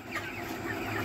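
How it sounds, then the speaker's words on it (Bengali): Chickens clucking in short, busy calls as a flock is caught and packed into crates for sale, steady and fairly close throughout the brief moment. "আপনারা দেখতে পাচ্ছেন মুরগিগুলো ধরতেছি"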